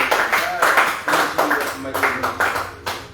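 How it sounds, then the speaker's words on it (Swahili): A church congregation claps together in a steady, rhythmic beat of sharp, close claps repeating about every half second, with voices carrying along beneath the clapping. "Pigia Yesu makofi mazuri."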